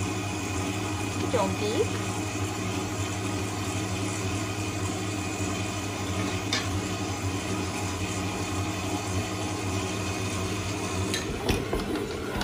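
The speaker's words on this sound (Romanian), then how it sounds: "Vom opri mixerul." An electric mixer kneads a yellow yeast dough for cheese-filled royal pastries, a steady motor hum running throughout while oil is added bit by bit, with a few clinks and a person speaking over it.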